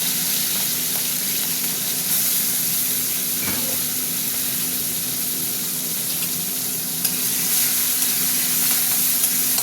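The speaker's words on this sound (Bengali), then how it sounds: "চিংড়ি মাছটা একটু ভাজা ভাজা হোক।" Prawns fry in hot mustard oil with chillies and nigella seeds, giving a continuous steady sizzle with occasional sharper pops and crackles, close and constant with no speech.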